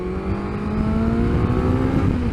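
Suzuki GSX S1000GT motorcycle pulling hard in second gear, a steady loud engine drone with rising harmonic tone held throughout, no talking.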